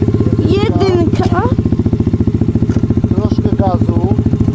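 A motorcycle engine idles with a steady, close throttered pulse during a beginner's first riding lesson, given a little throttle, while someone speaks over it throughout.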